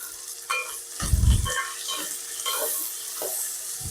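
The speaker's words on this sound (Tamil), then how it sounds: "வெங்காயம் வந்து வதங்கணுன்னா அதுக்கு கொஞ்சமாக நம்ம உப்பு போட்டுக்கணும்." Onions sizzle and fry with salt in a pan while a utensil stirs and scrapes through them, a close, busy crackle with a few louder stirring thumps, no voices.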